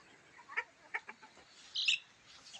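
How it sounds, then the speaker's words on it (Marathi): A fighter rooster among free-range village poultry gives a few short, fairly close clucks, then a brief raspy crow, with no talk over it. "तो काही फायटर कोंबडा आहे मित्रांनो"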